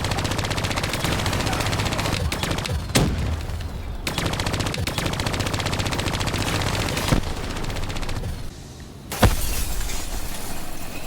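Hijacked turrets in Call of Duty: Black Ops III firing continuous machine-gun bursts, a loud, dense rattle broken by a few sharp louder blasts and brief gaps.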